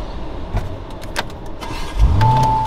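Cabin clicks and soft rustling lead into a Lamborghini Urus engine firing up at the push of its start button, a deep low rumble swelling near the end with a steady tone above it.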